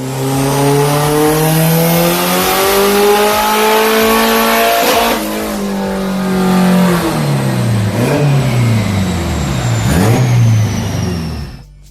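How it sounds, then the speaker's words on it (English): A boosted 700HP Honda S2000 engine revs hard through a loud pull with no VTEC, the pitch climbing steadily, then dropping and surging again in sharp rises, close and continuous with no talk. "So we just did a pull with no VTEC and all the boost"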